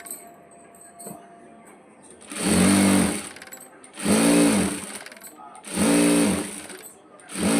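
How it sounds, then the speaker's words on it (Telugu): A sewing machine double-stitching lining cloth onto main cloth runs in three loud, close bursts of rapid mechanical whirring, separated by quiet pauses filled with faint handling noise. "డబుల్ స్టిచ్ చేసుకోవాలి"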